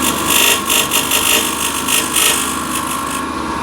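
A hand scraper is dragged across the end grain of a wood block, a close, loud, rasping scrape in repeated short strokes with a rough chattering grab, and no voice.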